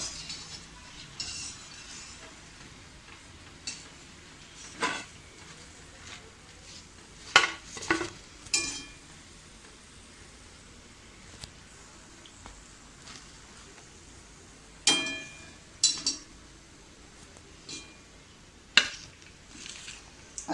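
Karanji pastries fry in oil, a faint, low sizzle under sparse metallic clinks and scrapes as the golden pieces are lifted out and set in a dish. The sounds are close but quiet, with sharper clanks coming every few seconds.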